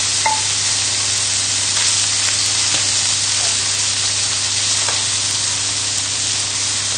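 Chicken livers frying in a heavy-bottomed pan as they are moved around, producing a constant loud sizzle with occasional faint scrapes from stirring.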